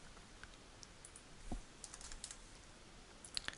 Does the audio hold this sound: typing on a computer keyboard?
yes